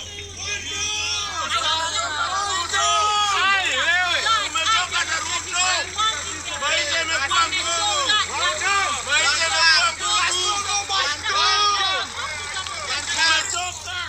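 A protest crowd in Kenya fills the scene with a dense babble of many agitated voices shouting and chanting together, steady and loud throughout, over a low constant hum.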